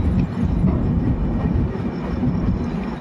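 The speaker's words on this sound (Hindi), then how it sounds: "प्लेटफॉर्म नंबर 2 की तरफ जा रही है विशाखापट्टनम एक्सप्रेस" Visakhapatnam Express train moving through a station toward platform 2, a loud continuous low rumble of rolling stock passing close by with no speech.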